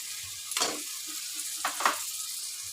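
Chopped tomato drops into spices frying in a pan, giving two short bursts of sizzling and stirring over a soft, steady background hiss, with no voices.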